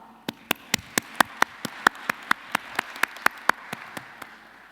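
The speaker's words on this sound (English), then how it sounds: "I think we all deserve a round of applause for ourselves" A steady series of sharp, evenly spaced hand claps, about four per second, crisp and close over a faint background hum.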